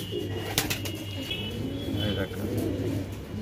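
Pigeons at a pigeon farm in Nabadwip coo in a continuous, close chorus with faint chirps and a few wing flutters.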